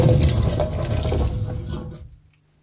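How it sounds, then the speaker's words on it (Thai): Tap water runs over gooseberries being washed in a sink, a loud close rushing splash that fades out and stops near the end. "ทีนี้ก็ทำการล้างให้สะอาดนะคะ พวกฝุ่นพวกใบต่างๆเขาก็จะได้ออกไปนะคะ"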